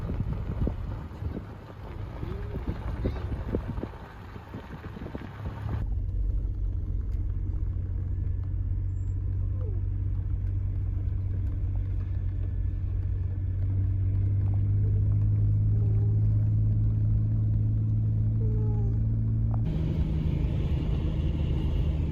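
A car drives along a road near a mountain campground in the NSW high country, giving a steady low rumble with wind buffeting the microphone, continuous and fairly close throughout.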